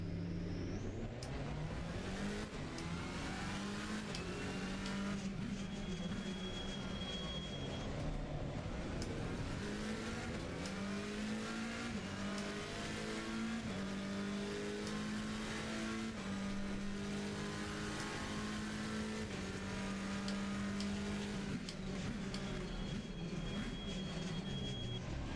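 Race car in Assetto Corsa Competizione lapping a circuit, its engine droning continuously and climbing and falling in pitch through gear changes, with sustained revving and no pauses over the long stretch, steady and fairly loud.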